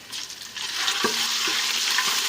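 Green chillies and spice paste frying in ghee for biryani: a steady, loud, close sizzle with a few short scraping stirs and light clinks, no voices.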